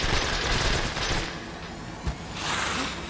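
Gunfire in the video game Resident Evil Village, a dense burst of shots at close range for the first second or so, then quieter game noise with a single sharp crack near the end.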